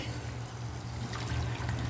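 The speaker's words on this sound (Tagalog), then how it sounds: "Ilagay natin ang tubig." Water poured into a pan of pompano escabeche with vinegar and fish, a steady low pouring and trickling wash that continues evenly throughout.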